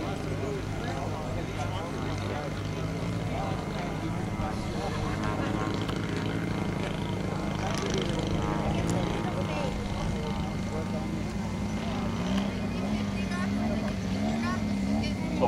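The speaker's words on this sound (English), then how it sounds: "we have the aerobatic aircraft way down on the left of the flight line." An RC aerobatic model aircraft at a Valley of the Giants airshow in Westport, New York, with a steady engine drone that shifts in pitch as it maneuvers far off, heard under continuous announcer commentary.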